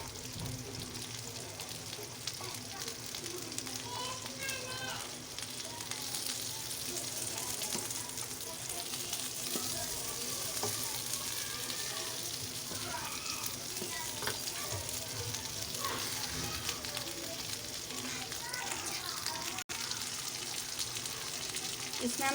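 Okra, or bhindi, frying slowly in oil in a pan, a continuous moderate sizzle with faint crackles and occasional stirring clicks running throughout.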